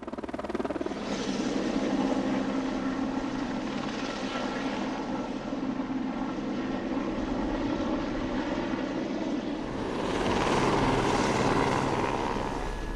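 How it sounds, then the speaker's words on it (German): A helicopter hovers steadily overhead while a heavy hopper is emptied below, its loud, continuous rotor and engine roar holding constant and swelling slightly near the end. "der Heli schwebt drüber, bis alles ausgekippt ist und balanciert aufs Neue los"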